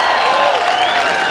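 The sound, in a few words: crowd applause welcoming a speaker at a rally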